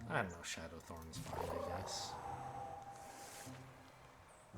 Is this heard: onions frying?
no